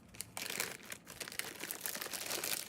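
Shimmery white embossing paste packaged in a plastic Ziploc bag crinkles and crunches continuously, with close, dense rustling throughout and no voices.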